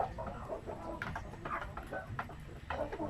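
Native chickens clucking softly on a farm, a series of short, low clucks and chirps repeating at a moderate distance over a quiet background hiss.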